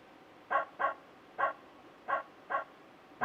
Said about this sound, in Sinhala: බල්ලන්ගේ බිරුම් හඬ